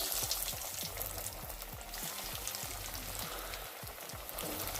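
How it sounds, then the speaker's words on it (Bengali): Vegetable chops, three to a batch, fry in hot mustard oil with a close, continuous crackling sizzle full of quick popping bursts, like light rain on a surface, and no voices. "এক এক ব্যাচে 3টে করে ভেজিটেবল চপ ভাজছি আমি।"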